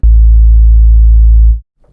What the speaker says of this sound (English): we're going to use a sine wave because it does sound the closest to a true 808.